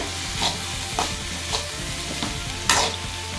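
A spoon stirs bean, carrot and cabbage poriyal in a pan, scraping in four or five separate strokes with a sharper scrape near the end, over a low steady sizzle, close by, with no talking.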